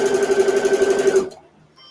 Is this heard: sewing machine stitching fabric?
yes